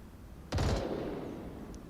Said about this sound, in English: Gunshots were fired, that was Konoha, which means his location will be pinpointed.